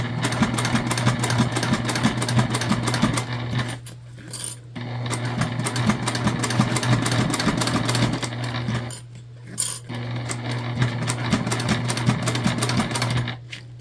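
A sewing machine stitches down a bag seam in a steady, fast, rhythmic run, loud and close, with two brief pauses where the motor drops out before sewing resumes.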